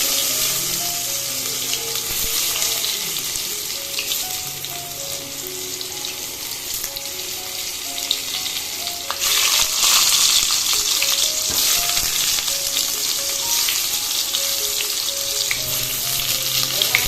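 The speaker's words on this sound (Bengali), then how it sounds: "ওই তেলে এবার আলুগুলোকে ভেজে নেব।" Potatoes fry in the oil left from frying eggs, a continuous close sizzle with occasional stirring scrapes, a louder burst midway, and faint background music with no talking.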